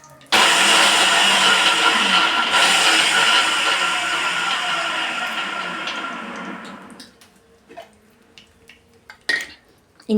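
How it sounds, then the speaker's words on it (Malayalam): A mixer grinder jar crushes shallots, ginger and green chillies for a Kochi-style fish curry, a loud steady whirring grind lasting several seconds before stopping, followed by a few sharp clinks and knocks of the jar. "ചുവന്നുള്ളി, ഇഞ്ചി, പച്ചമുളക് ഇത്രയും ചതച്ച് കൊണ്ടുവരാം മിക്സിയുടെ ജാറിലിട്ട്"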